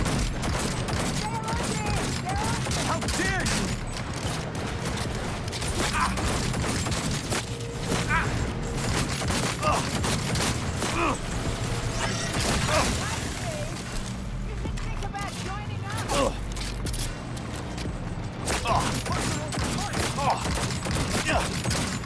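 Gunfire in the video game Cyberpunk 2077: Phantom Liberty: repeated bursts and sharp shots crackling across a busy, noisy mix of mechanical clatter and booms, with people talking through it.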